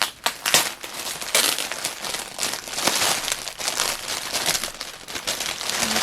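Crinkly packaging is handled and crushed close by, giving a continuous run of sharp crackles and rustles with irregular louder bursts, heard on its own without voices.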